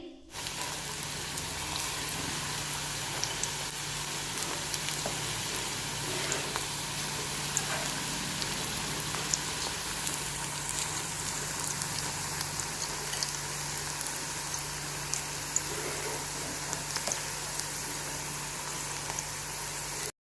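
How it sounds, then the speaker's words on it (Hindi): Pakora batter deep-frying in oil in a kadhai, with a continuous bubbling, crackling sizzle that holds steady at moderate loudness for the whole stretch, with no talking over it. "तो अब हम कढ़ाई में पकोड़े का मसाला डालेंगे।"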